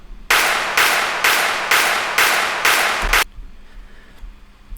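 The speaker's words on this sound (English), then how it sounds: "I also have a festival clap on top of it" A festival-style clap sample for a dance remix drop, airy and washed in reverb, hits seven times in an even, quick pulse, each burst broad and sustained, before cutting off into near silence.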